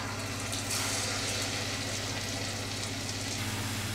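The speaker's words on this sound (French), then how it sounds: "l'huile est bouillante, on va commencer à cuire nos churros" Churros sizzling steadily in boiling oil, a dense continuous bubbling hiss with a low hum beneath, close and even throughout with no talking.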